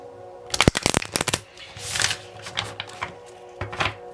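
Starseeds oracle cards being shuffled by hand for a twin flame pick-a-pile tarot reading, with a quick burst of crisp riffling flutters followed by softer shuffling and a final short riffle.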